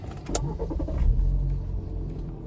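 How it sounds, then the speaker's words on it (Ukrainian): A Jeep Cherokee 2.4 fitted with an LPG system cranks and starts close by, a brief whirring crank followed by a low engine rumble settling into a steady idle. "Запускаємо авто."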